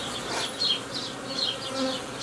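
Honeybees hum in a steady, dense buzz at a hive while building comb in a Nicot queen-rearing box, close and continuous with a gently rising and falling swarm drone and no voices.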